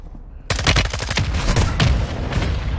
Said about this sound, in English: Mortar strike here, be careful.